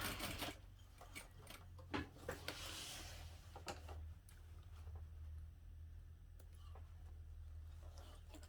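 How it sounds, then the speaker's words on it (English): A sewing machine back stitches along the top of a backpack, a low mechanical hum with quick rattling stitch bursts and clicks, close and fairly quiet, stopping and starting. "I'm going to back stitch along the top"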